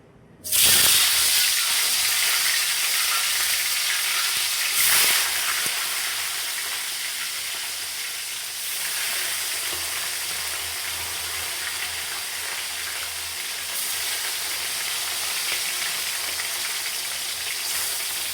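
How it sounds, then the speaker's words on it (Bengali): Fish heads fry in hot oil for a Bengali muri ghonto, a loud steady sizzle that bursts in as they hit the pan, surges briefly again midway and hisses on continuously throughout. "এখন আমি মাছগুলোকে মাছের মাথাগুলোকে সুন্দর করে ভেজে নেব"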